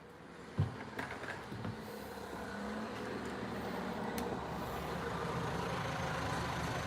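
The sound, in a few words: car pulling up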